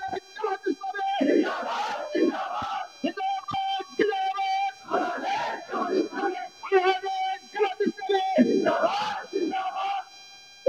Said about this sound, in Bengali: এইভাবে আমরা স্লোগান দেবো ইনশাল্লাহ